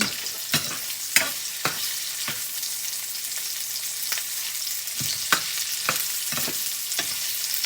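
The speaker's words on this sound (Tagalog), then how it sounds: "sa akin, ginigisa ko muna" Chicken feet sauté in a pan with garlic and onion for adobo, a steady close sizzle broken by periodic sharp scrapes and taps of stirring.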